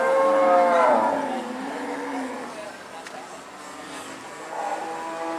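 Large slaughter cattle mooing while being loaded into a truck, a long low moo up close followed by a fainter one, with vehicle noise in the background.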